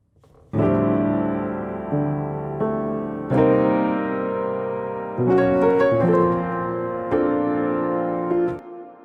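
A rich, lifelike sampled Keyscape piano plays sustained chords that change every second or two, ringing out fully and then stopping, with nothing else heard.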